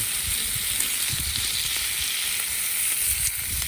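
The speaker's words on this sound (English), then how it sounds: "The bacon's going down." Bacon sizzling on a Blackstone griddle, a loud, continuous crackling hiss with faint pops and occasional scrapes.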